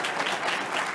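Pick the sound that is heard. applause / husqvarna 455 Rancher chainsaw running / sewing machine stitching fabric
applause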